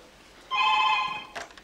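A telephone rings once with a short, bright electronic trill, followed by a brief muffled sound.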